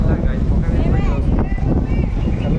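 Strong, cool wind buffets the microphone in low, rumbling gusts at the Gudem Gutta hill temple in Telangana, with a voice speaking faintly underneath.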